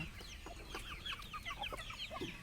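Heavy-size hens and broiler-quality chicks cluck steadily at close range, with overlapping soft calls and occasional sharper chirps and no one talking.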